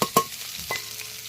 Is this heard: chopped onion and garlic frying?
yes